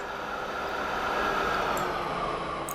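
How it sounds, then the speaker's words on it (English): A purple train in Transport Fever runs steadily past, giving a continuous broadband rolling rumble and hiss, loud and close, with no talking. "This is our purple train."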